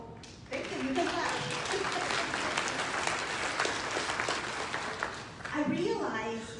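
Applause breaks out from an education conference audience, rising quickly into sustained clapping and tapering off, with a speaker's voice heard at the start and end.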